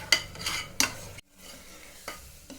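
A dal and jaggery puran mixture is stirred in a pan on full flame, the spoon scraping in sharp strokes over a soft sizzle, with a brief silent gap midway.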